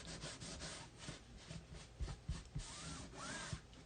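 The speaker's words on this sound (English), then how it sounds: "I probably press too hard when I burnish" Repeated back-and-forth rubbing strokes as scrapbook paper is burnished under firm pressure, a close, soft scraping rhythm with a few light taps, no talk.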